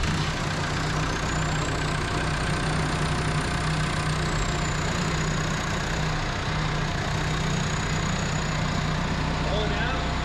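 A Case IH MX90C tractor engine idles steadily and close, a constant low diesel rumble with a thin high whine rising and falling above it, and voices speak over it.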